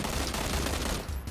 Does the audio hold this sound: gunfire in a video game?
yes